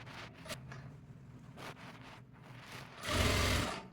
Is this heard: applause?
no